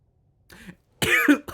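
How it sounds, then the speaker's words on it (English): A person coughs close to the microphone, one short soft burst followed by a louder, harsher cough in a quiet room. "I was going to do the dramatic pause and then speak, and then I coughed, of course."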